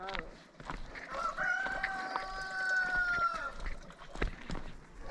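A village rooster in Lerik, Azerbaijan crows one long drawn-out call in the middle, moderately distant, with a few background knocks and faint voices around it.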